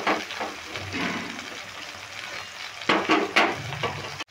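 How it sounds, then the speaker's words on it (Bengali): Small mourala fish fry in oil in a pan while the oil is stirred and spread around, giving a soft steady sizzle with scraping and clinking of a utensil against the pan, close by. "তেলটা একটু এইভাবে নেড়ে চারিধারে সমান করে নিচ্ছি।"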